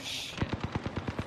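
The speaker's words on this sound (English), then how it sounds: "The enemies are shooting at me." Enemy automatic gunfire in a video game, a rapid run of about ten evenly spaced shots over a second, fairly close and loud after a brief hiss.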